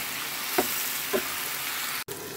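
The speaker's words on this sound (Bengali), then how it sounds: "তো এখানে হচ্ছে আমি যে পেঁয়াজ মরিচ ভেজে নিচ্ছি" Onions and green chilies fry in a home kitchen pan, a steady broadband sizzle holding throughout with two brief stirring scrapes and a short break near the end.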